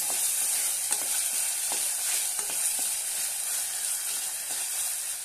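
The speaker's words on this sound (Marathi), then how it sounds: "1 टोमॅटो बारीक कट केलेला आहे तो घालूया। तो पण परतून घेऊया।" Finely chopped tomato sautéing in a pan for masoor pulao, giving a steady close sizzle and hiss with occasional stirring clicks throughout, no talk.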